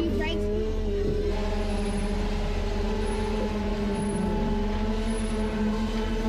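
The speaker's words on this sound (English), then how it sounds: "Listen to those brakes carrying on." Brakes on a 4WD towing a 6 m trailer down Gun Shot, a steep track in Cape York, groan and whine in a steady, sustained drone over low engine rumble for the whole stretch.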